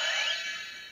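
A Goseiger Gosei DX Blaster toy gun gives its power-on sound: one brief electronic chirp with a rising sweep that fades quickly, ending in a tiny click, fairly quiet and heard alone.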